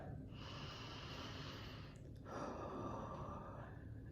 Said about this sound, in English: Now take a deep breath